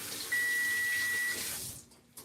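Hands rinsed under a running kitchen tap while noodles cook: a steady, close rush of water for about a second and a half, then it shuts off.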